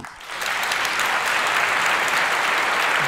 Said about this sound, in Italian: Un applauso contro il DDL Zan